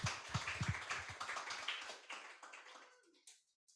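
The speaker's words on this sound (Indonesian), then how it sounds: "berikan tepuk tangan buat Tuhan Yesus" A church congregation claps during a Sunday service, a dense burst of applause that thins and fades away to near silence within a few seconds.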